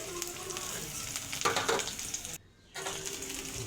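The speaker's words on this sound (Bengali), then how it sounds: "কেটে রাখা পেঁয়াজ কুচিটাকে দিয়ে দেবো। একটু নাড়িয়ে চাড়িয়ে নিলাম।" Chopped onions frying in hot oil tempered with bay leaf, whole cumin and chili, a steady close sizzle with scraping stirs and a brief silent gap.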